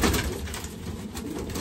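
A pigeon hen coos in a breeding loft, soft low rounded coos repeating close by over faint background noise, with no talk.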